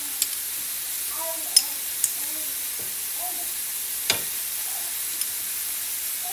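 Garlic sizzles in a frying pan for lo mein, a faint steady hiss with occasional clinks and scrapes of a utensil, quiet and close, with a voice murmuring briefly.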